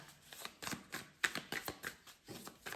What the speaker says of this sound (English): Thank you for your patience while I shuffle this deck.